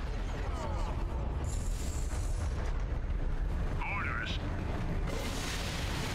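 Mortar barrage in Dawn of War 2, a continuous heavy rumble of distant explosions and battle noise, loud and dense throughout with no clear separate blasts.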